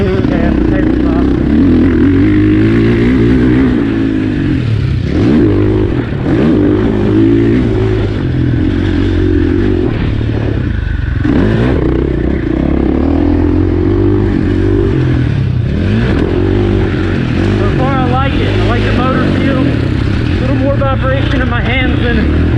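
A KTM 450SXF dirt bike engine drones steadily and loud throughout, with shifting revs as it laps a dirt track at Crow Canyon, while a rider talks over it.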